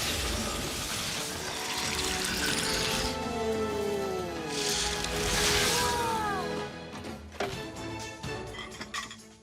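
Cartoon water-arrow power effect from an animated series, a loud splashing, pouring whoosh with sweeping tonal glides layered over music, fading into scattered droplet sounds near the end.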